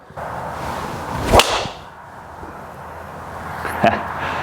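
A sharp, cracking swish and smack of a Ping G430 or G425 driver hitting a golf ball, loud and close, followed a couple of seconds later by a second fainter strike.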